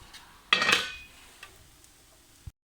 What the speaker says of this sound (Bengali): ঢাকনাটা তুলে নিলাম